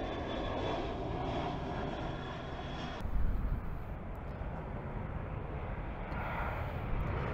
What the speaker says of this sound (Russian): Тут у меня полет самолетов